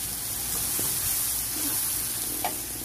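Green chilies sizzle and fry in curry for pangas fish with lemon leaves, a steady, close, bright hiss of hot oil with faint stirring scrapes and a few pops.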